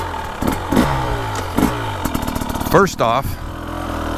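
A 2025 KTM 300XCW Champion Edition two-stroke dirt bike engine revs up and down in short bursts while out on a ride, with a rider talking over it close to the microphone.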